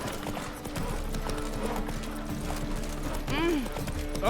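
Horse hooves clip-clop at a steady gallop in The Witcher 3, set among busy game sounds with a brief whinny-like cry near the end.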